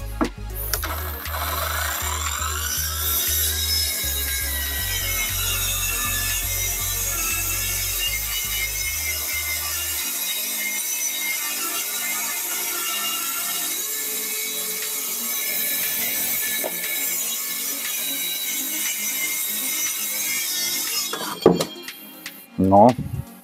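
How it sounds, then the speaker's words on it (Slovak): A Parkside Performance 20V cordless plunge saw whines steadily at high pitch through a long cut without a scoring pass, with a low motor hum at first, ending in a few knocks and clatter. "Ten kotúč celkom pekne reže a to som ani nepoužil predrez."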